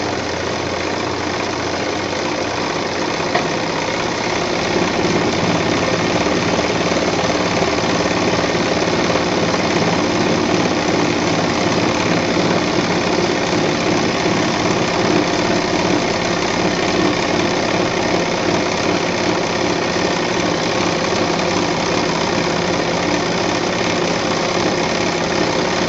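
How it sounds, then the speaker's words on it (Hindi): A sewing machine stitches a cotton saree into a bed cover, running as a loud, close, continuous mechanical drone with a fast rattling rhythm that holds steady throughout with no talk. "अब इस साड़ी को आप कहीं से भी जैसे भी कंफर्टेबल लगे वैसे सिलाई कर सकते हैं"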